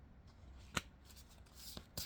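Tarot cards are shuffled and drawn in a quiet room: soft rustling slides with a couple of crisp card snaps and flicks, faint and close.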